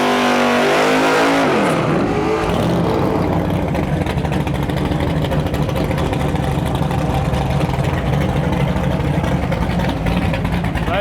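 A Chevrolet Vega drag car launches at Interlake Dragway during a Canada Day Cash Days event, its engine roaring loud and steady as it accelerates hard down the strip, with no talk over it.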